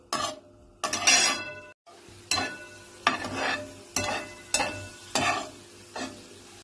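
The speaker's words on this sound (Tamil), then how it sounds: "நம்ம இப்படி லைட்டாக ஷாலோ ஃப்ரை மாதிரி பண்ணிக்கலாம்" Paneer shallow-frying with masala in oil in a pan, a sizzle rising with each of about seven rhythmic stirring strokes, near and clear with no talking.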